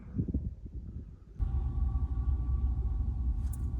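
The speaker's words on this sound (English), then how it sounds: "That is the sound of another train going by." A train passing nearby, a low steady rumble that swells in suddenly and holds under a faint tonal hum.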